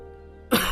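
A single short cough erupts from behind a closed door in a dramatized scene, abrupt and fairly close after a quiet background hum.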